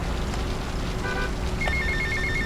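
A cell phone ringtone chirps in GTA: Vice City, a brief repeating electronic trill that comes in near the end over a steady drone of car engine and ambient game noise.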